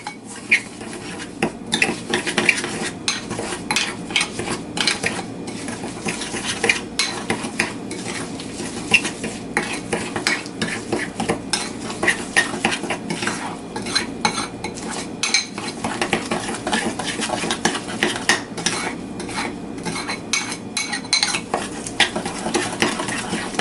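Minced garlic mixed into a dish with a utensil scraping and clanking against the bowl in a quick, steady rhythm, close and fairly loud throughout, with no talk.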